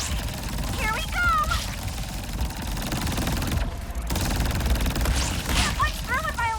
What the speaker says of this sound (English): Can't punch through with my electro guns!